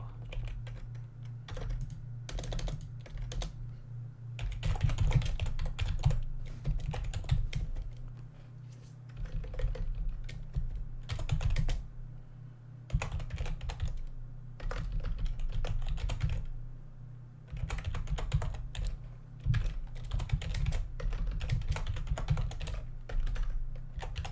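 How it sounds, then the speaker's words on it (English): Continuous typing on a computer keyboard while coding, rapid clattering keystrokes in bursts with brief pauses, close and clear over a low steady hum; no talking. "So typing noises begin now."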